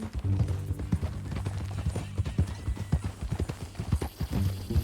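In the video game Red Dead Redemption 2, horse hooves clip-clop in a steady walking rhythm close by, and a horse snorts briefly toward the end.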